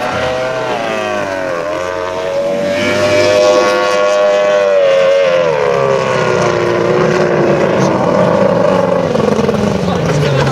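A loud powerboat engine whines and shifts pitch as the boat turns and accelerates on Goitzsche lake, the droning tone rising and falling steadily.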